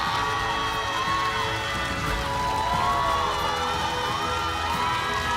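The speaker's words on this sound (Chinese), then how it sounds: "再次把掌声送给这个美好的3人组合" Studio audience cheering and clapping for a three-member music act on a televised song competition stage, a dense, steady crowd roar with whoops and shouts sustained throughout, no talk.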